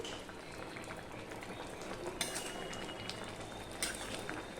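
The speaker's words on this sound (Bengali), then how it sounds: "ঠিক এইভাবে মিডিয়ামে দিয়ে আমি ফুটিয়ে নিচ্ছি" A vegetable curry with papaya and poppy seed paste bubbles over medium heat in a pot, giving a soft, continuous simmering patter with a couple of faint utensil clinks, with no voices.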